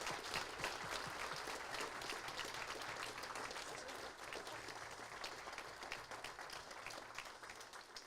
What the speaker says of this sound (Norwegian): Vi må ha en applaus for Align Racing.